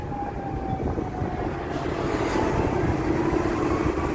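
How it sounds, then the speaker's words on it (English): A Chicago Brown Line elevated train crosses the river, its steady rumble and rail noise filling the street ambience in a continuous, moderately loud roar heard from a downtown sidewalk. "There's the train. There's the Brown Line heading across the river there."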